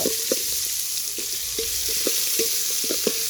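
Onions and garlic sautéing in a pan for tamarind curry cooked over a traditional stove: a close, continuous sizzle broken by regular scraping strokes of a spoon stirring, without any talking.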